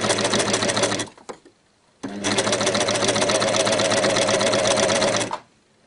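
An overlock and coverstitch machine sews a baby bodysuit in two loud, close bursts of rapid whirring stitching, a brief run, a short pause, then a longer steady run that stops abruptly.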